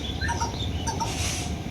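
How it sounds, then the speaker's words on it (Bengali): Birds call around a home in the morning, several chirps and short whistled notes overlapping at moderate distance over a steady low background rumble. "চারিদিক দিয়ে আপনার পাখির ডাক"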